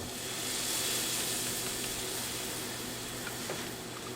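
A grilled cheese sandwich toasting in a pan gives a steady, soft sizzle with a continuous hiss throughout and faint occasional pops, quiet and close, with no talking.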